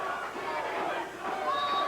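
A wrestling crowd at an RMCW show chants and roars, forming a dense, sustained wash of voices in the arena.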